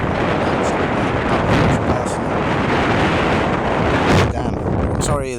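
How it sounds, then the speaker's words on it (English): Heavy wind buffeting the microphone at a dam in Khao Khitchakut National Park, Chanthaburi, Thailand, a loud, constant low rumble with gusty surges throughout. "I'm sorry it's very, very windy"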